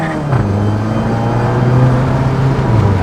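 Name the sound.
Mk7 GTI with steel oil pan accelerating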